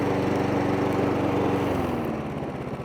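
Mountfield lawnmower engine running steadily after a carburetor clean, a loud continuous petrol drone whose pitch eases slightly toward the end, with no voices.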